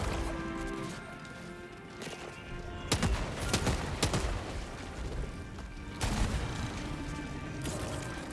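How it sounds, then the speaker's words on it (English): Grenade blasts and an ultimate weapon shot in Helldivers 2, fought solo against squid enemies on Super Helldive: heavy explosive bursts and crackling impacts hit near and loud in several clusters over constant battle noise. "3 grenade shots, ultimate shot, dead"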